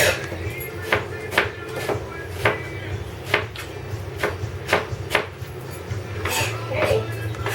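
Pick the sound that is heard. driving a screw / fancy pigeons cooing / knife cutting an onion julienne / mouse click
knife cutting an onion julienne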